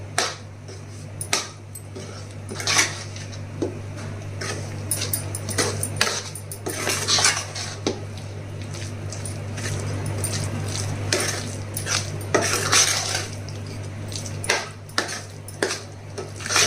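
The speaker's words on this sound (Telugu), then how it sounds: "ఇప్పుడు ఇవన్నీ వేసిన తర్వాత బాగా కలపాలి." Raw mango and tomato pickle being mixed with chili powder in a metal vessel, with repeated scraping, clinking and stirring strokes up close over a steady low background hum, no talking.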